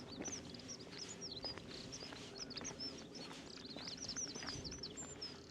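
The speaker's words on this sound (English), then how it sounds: "Some beautiful bird song at the moment." Several birds chirp and sing in quick, overlapping bursts at a moderate distance in Cregneash village on the Isle of Man, with a faint low background hum and no talking.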